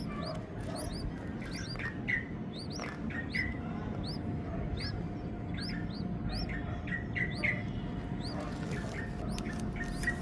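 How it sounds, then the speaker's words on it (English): A yellow-vented bulbul parent perched near its nest in a backyard malungay tree repeats short, bright alert chirps in quick bursts, ringing out over a steady low background hum. "The parent bulbul is keep chirping with her alert sound."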